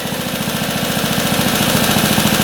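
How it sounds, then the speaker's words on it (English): A rare motorcycle's engine idles close by, a steady, even chugging pulse that holds a constant rhythm throughout, with no talking over it. "I can't believe how good that runs. Idling perfectly."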